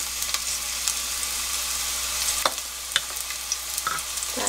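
Finely chopped green onion sizzles in a spoonful of oil in a pan, a soft steady crackle with a few sharp clicks of utensils.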